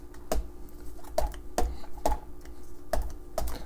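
A knife cuts random slits into the inside of a halved spaghetti squash, making six sharp, separate clicking taps spaced about half a second apart, close and fairly quiet.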